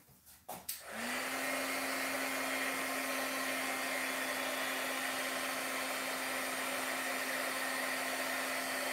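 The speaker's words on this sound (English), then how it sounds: "always unplug your heat gun when you're done with it" A heat gun blows hot air over embossing powder on a stamped craft project, switching on after a couple of clicks into a loud steady whooshing roar with a fixed whine that runs unbroken to the end, with no talk.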